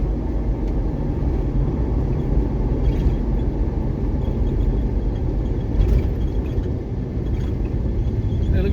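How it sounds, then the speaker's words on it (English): Steady low wind roar and road rumble buffet a Bestop Supertop NX soft top on a 2004 Jeep Wrangler TJ at highway speed, a continuous loud broadband drone with slight swells. "once you get around 50, you're going to noticeably hear the wind against the top"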